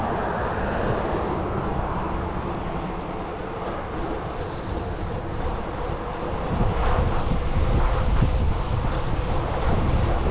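Breezy, overcast outdoor wind rushes steadily past a cyclist riding near Western Boulevard in Jacksonville, North Carolina. The broad, rumbling buffeting fills the whole stretch and grows slightly stronger toward the end.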